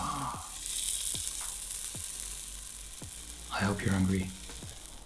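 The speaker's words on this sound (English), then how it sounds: "I'm toasting it from both sides for a little bit. The oil helps so that it doesn't stick too much." Sourdough pan bread toasting in oil in a pan, a steady close sizzle and crackle with a few soft clicks, while a person speaks briefly near the end.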